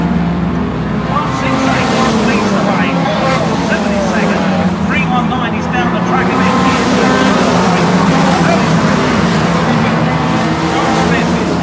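Hot rod stock cars racing on a track in a 1.3cc stock Mondeo rods meeting, engines droning loudly and continuously with shifting revs, while a commentator talks over them.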